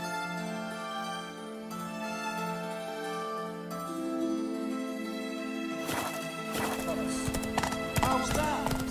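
Roach, the horse in The Witcher 3, clip-clops along at a steady pace under sustained game music, with a voice joining partway through.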